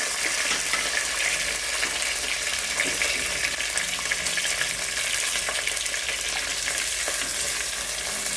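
Onions and curry leaves sizzle steadily in hot oil in a pan for a fish and brinjal curry, a dense continuous frying hiss with faint stirring, close and loud, with no talking.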